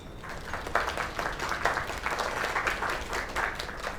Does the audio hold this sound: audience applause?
yes